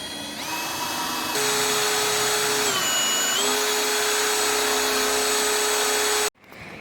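A power drill boring 8mm holes through steel during a Safari snorkel install on a Mitsubishi Triton, a loud steady motor whine that dips briefly in pitch under load, then cuts off abruptly near the end.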